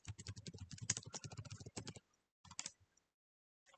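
Fingers tap rapidly on a computer keyboard while an email greeting is typed in a school computer-science lesson: a dense run of crisp, close clicks, a short pause, then a few more scattered keystrokes.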